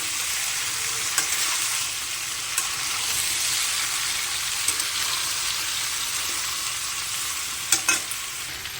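Potatoes with tomato and green chili sizzling in a pan for a white potato curry, a steady close frying hiss with occasional sharp clinks of a spatula stirring.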